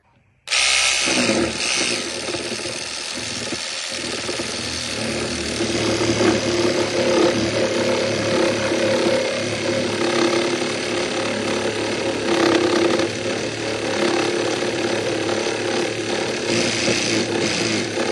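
A Sturmax RSM8801CR cordless reciprocating saw cutting through wood, starting abruptly and then running as a steady, loud, close motor whine with a rasping blade over about eighteen seconds.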